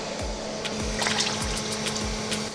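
Water running and splashing as a boiling saltfish pot is drained of its salty top layer and topped up with fresh water, a steady close pouring and gurgling with a few low knocks of the pot, no talking.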